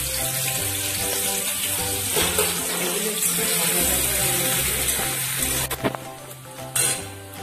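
Chopped capsicum and green chili fry in hot white oil for a veg momo filling, giving a steady loud sizzle over background music, with a few sharp clatters near the end.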